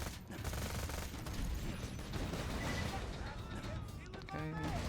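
Rapid bursts of Kerblaster fire in Borderlands 2, loud and dense, shots piling over one another amid game effects and a voice talking.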